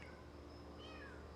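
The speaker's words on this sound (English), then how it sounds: "there's a kitten that's a few feet away from me." A kitten mews faintly in a parking lot a few feet away, a couple of thin, high, drawn-out cries over low steady background noise.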